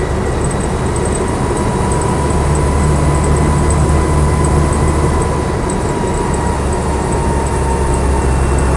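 Inside a hard-top Land Rover Lightweight on the move, a loud, steady engine drone and road rumble booming off the roof, constant throughout with no talking.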